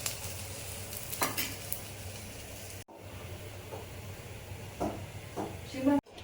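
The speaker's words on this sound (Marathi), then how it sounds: "आता आपण दुसऱ्या बाजूने पण थोडंसं भाजू देऊ याला" High-protein thalipeeth roasting on its second side in a pan, a soft continuous sizzle with occasional stirring and scraping clinks; a voice talks over it.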